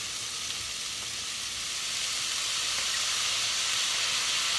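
Yakisoba noodles frying in a pan with yakisoba sauce give a steady, bright sizzling hiss that holds for several seconds at a moderate level, with no talk.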